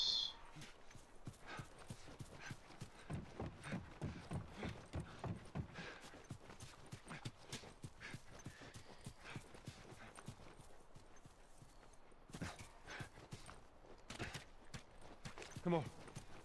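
Steady hoof clip-clops from a trotting horse in The Last of Us video game go on throughout, with a brief whinny near the end and no talking.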